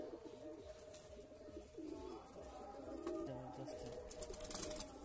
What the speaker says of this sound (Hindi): कालदुमा नर देखे व्यूअर्स, फ्लाई लाइन का कबूतर है, नर है ये।